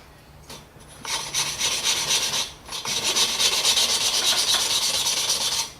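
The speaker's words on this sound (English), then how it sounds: "I like to lap the valve in so I have a seat that's registered and ready to go." An engine valve is lapped into its seat with a rapid back-and-forth gritty rubbing. The close, loud rasping strokes run in two bursts with a short pause between them.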